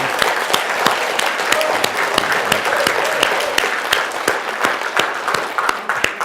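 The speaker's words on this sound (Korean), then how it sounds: "우리 주님께 영광의 박수를 드립니다" A church congregation claps in loud, sustained applause, dense and continuous with a few sharper individual claps standing out, filling the room for several seconds.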